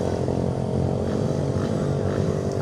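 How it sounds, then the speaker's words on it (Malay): Steady, continuous engine drone of a quiet four-stroke motorcycle at a night-time Raya gathering, loud and close throughout with no clear changes in pitch or rhythm. "Ni kategori motor senyap ni."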